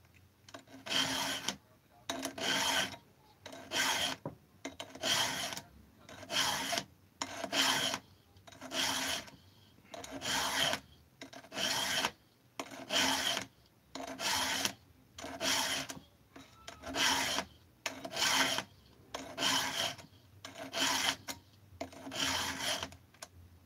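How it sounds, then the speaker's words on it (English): A chainsaw chain's teeth are sharpened with a hand file in steady, evenly spaced rasping strokes, about one each second and a half, close and fairly loud, with no talking. "the thing to do when you're sharpening is basically go around, find the worst tooth, sharpen that tooth"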